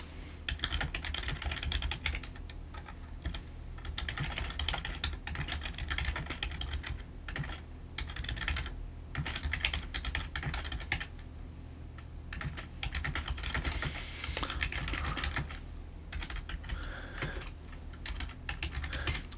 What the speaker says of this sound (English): And you can type in some notes.